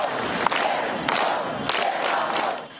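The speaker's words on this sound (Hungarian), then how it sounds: "A fehér orosz elnök beszéde közben a tömeg azt skandálta, hogy mondjon le, és kifütyülték." A large crowd of workers at a Minsk factory chants rhythmically at Lukashenko in repeated shouted bursts over a steady roar, with scattered whistling and no single clear voice.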